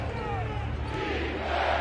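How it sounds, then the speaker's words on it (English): Basketball arena crowd at a Clippers vs Nuggets playoff game, a dense continuous roar of spectators on their feet, loud and unbroken, with an announcer talking over it. "Crowd will stand here till the first Nuggets bucket."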